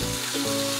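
Curry leaves hit hot oil in a pan for dry chicken sukka, crackling into a loud, bright, continuous sizzle with a brief spit partway through, and no one speaking.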